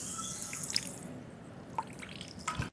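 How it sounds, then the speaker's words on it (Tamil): Water dripping from a tap falls in a few separate, close drops with soft liquid splashes over a quiet background, with no talking. "டேப்ல இருந்து சொட்டோம்ல, இப்ப அந்த சவுண்ட் பாப்பீங்க."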